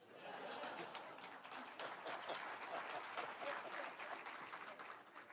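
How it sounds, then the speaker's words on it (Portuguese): A crowd at a Reformed faith gathering claps steadily for several seconds, quiet and somewhat distant, with a few chuckles and murmurs woven through the applause. "Se fosse eu, aplaudir agora."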